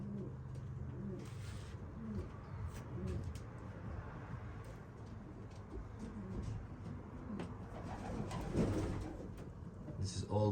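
Racing pigeons just back from a 290 km race coo repeatedly in their loft, soft throaty calls overlapping in a steady rhythm, with light wing flutters and rustling nearby.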